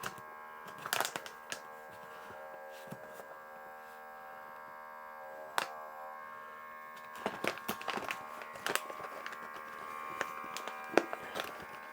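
Steady electric hum of a small vacuum pump drawing air out of an EIBOS EURUS filament storage bag, holding a constant drone with a few louder clicks and rustles of the bag and handling.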